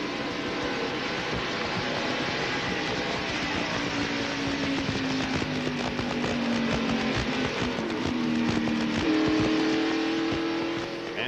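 A NASCAR stock car slides toward the wall during a crash at the 1991 Miller Genuine Draft 500, heard as a loud, continuous engine roar with pitch sliding and shifting over crowd and track noise.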